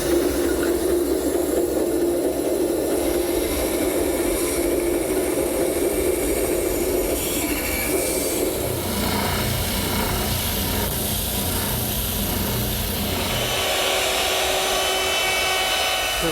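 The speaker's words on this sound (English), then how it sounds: "We'll do that at the bandsaw." A bandsaw rounding over the end of a wooden spreader for a library ladder: a loud, continuous whirring drone with a coarser cutting rasp partway through, close up, with no talking.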